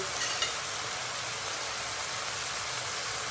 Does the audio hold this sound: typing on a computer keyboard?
no